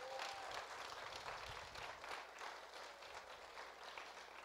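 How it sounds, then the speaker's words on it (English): An audience at a candidate forum town hall gives a round of applause, a faint, distant patter of many hands clapping that continues steadily for a few seconds. "To Jody, the advisor, will you please give them all a round of applause?"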